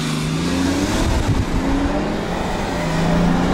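A BMW X6 with a 3-litre diesel engine and Stage 1 tune pulls away hard from a standstill, its engine note loud, close and steady throughout.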